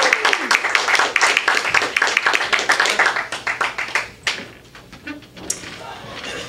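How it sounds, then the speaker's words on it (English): Clapping from a small open-mic comedy audience at a gallery venue, a fairly close burst of many hands that gradually thins out and fades over several seconds. "I want you to clap it up for the very funny Mr. Roy Assembly, everybody."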